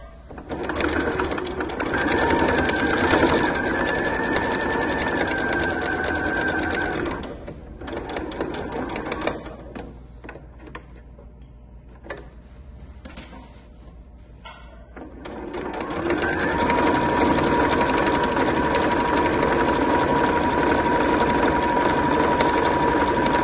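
A sewing machine stitches a multipurpose fabric bag with a loud, fast, steady whir, pauses briefly to a quieter near-stillness, then resumes an even, continuous run to the end.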